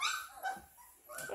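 Newfoundland puppies let out faint, high whimpers and soft little barks nearby in a quick overlapping jumble.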